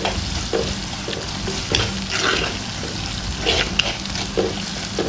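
Shallots sizzle and fry in a pan for a mackerel curry, with a steady crackle broken by scraping stirs of a spoon against the pan.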